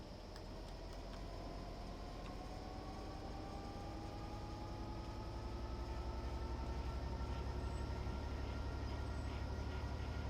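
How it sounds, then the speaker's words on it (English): A train in the video game Train Sim World 3 pulls away from a stop, a steady low rumble and rising whine building gradually and growing slightly louder, with no talking. "Apply some throttle to get the train moving."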